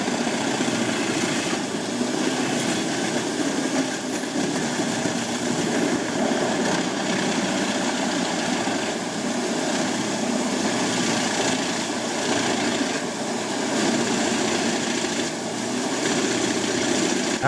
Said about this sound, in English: The rasping sound of wood being shredded blends with the powerful engine noise